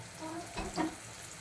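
Onions fry in a pan with a faint, brief sizzle and a couple of soft stirring scrapes.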